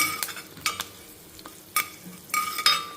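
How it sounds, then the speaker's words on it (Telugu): Dried red chillies, asafoetida and curry leaves frying in a small amount of oil, with a soft steady sizzle broken by several sharp clinks and scrapes of a spoon stirring in the pan. "ఎండుమిర్చి ఇంగువ కొంచెం కరివేపాకు వేసుకోవాలి సో ఇది ఇప్పుడు కొంచెం వేగాలన్నమాట"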